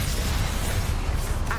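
A Confringo blast spell from the Hogwarts Legacy video game erupts as a dense, sustained wall of low rumbling and crackling noise across the whole moment, loud and close with no clear separate impacts.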